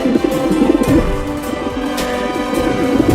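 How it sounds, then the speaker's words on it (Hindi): A cartoon pigeon coos in soft repeated low bubbling calls, close and fairly loud, a continuous throaty warble with no talk over it. "वो रहा कमीना कबूतर।"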